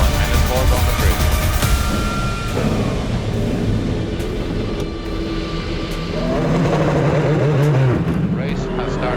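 Race cars pull away at the start of the 2020 FIA WEC 6 Hours of Spa behind a safety car, engines roaring close and loud, then rising and falling as cars move off, with talk over the top.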